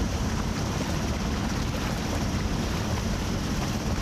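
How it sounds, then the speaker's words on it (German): Strong, constant 20-knot headwind roars and buffets across the microphone while sailing off Cape Maleas, Greece, a dense broadband rush with no pauses, like gusting air on open water. "Vier, fünf Meilen vor dem Kap haben wir strammen Wind mit 20 Knoten genau von vorne."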